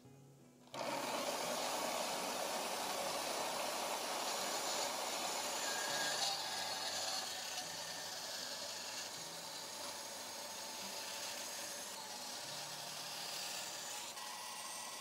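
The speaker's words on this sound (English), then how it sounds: "Take them over to the bandsaw." A bandsaw cuts through a bar of ladder-pattern damascus steel, starting abruptly and then holding a steady, loud, dense grinding whine that eases slightly in level partway through, with no talking.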